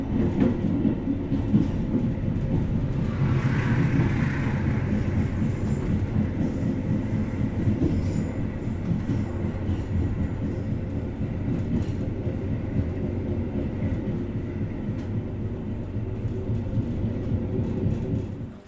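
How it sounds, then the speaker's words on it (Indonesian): Bima executive express train pulling into Madiun station at night, a steady loud low rumble of rolling carriages heard continuously from aboard, with no talk. "Kereta api Bima baru saja tiba di stasiun Madiun."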